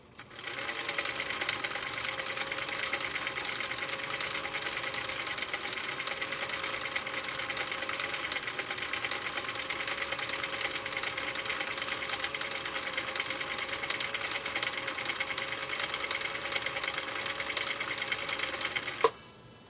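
A Husqvarna Viking CI 21A sewing machine stitches in a steady, continuous whir with a fast even rhythm, running close and alone for nearly twenty seconds before stopping abruptly.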